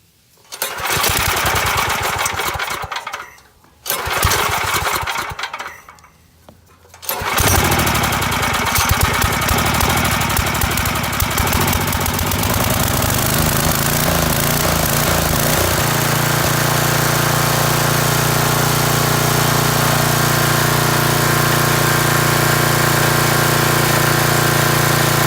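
A Tecumseh HM80 small engine, fitted with a new carburetor, spark plug and air filter, cranks in two short pulls, then fires up and settles into a loud, steady run close by.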